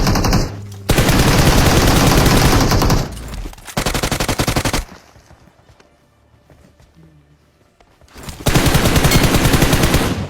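Automatic gunfire from a PUBG battle royale match, with loud sustained bursts of rapid shots that break off into a quieter lull around the middle before another heavy burst near the end.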